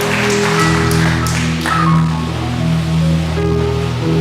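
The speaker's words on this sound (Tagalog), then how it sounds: "Palakpakan natin ng malakas sa Panginoon." A church congregation at a Sunday service claps loudly and continuously for several seconds, the dense applause mixed with a sustained musical tone underneath.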